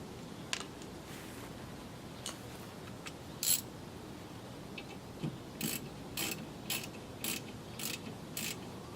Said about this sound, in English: all you need to do is torque it down with the socket